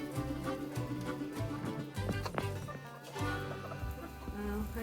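Hungry hens on a family farm cluck and chatter eagerly while waiting for mealworms, a busy overlapping flock of close, fairly loud calls that continues throughout with no talking.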